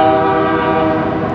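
A train horn blares continuously and loudly nearby, a steady sustained multi-tone blast that holds for the whole stretch with a low rumble of the train beneath it.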